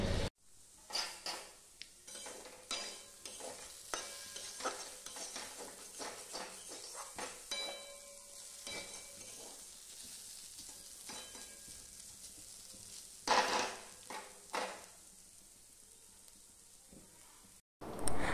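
Potatoes fry in a pan with a steady close sizzle, broken by repeated clinks and scrapes of a utensil stirring against the metal, with a few louder clatters toward the end.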